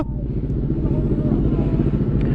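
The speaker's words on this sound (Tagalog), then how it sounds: "Ito pala motor ko." A big bike's engine idles and rumbles steadily nearby at a group gathering, a loud continuous low throb that runs through the whole moment.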